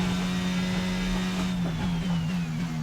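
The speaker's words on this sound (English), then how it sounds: "The Ferrari engine's just a little bit too quick." Ferrari-powered Formula 1 car engine from the racing game F1 22 at the Austrian Grand Prix, a steady loud high-pitched drone holding constant pitch across the clip, with a faint whine sliding slightly downward.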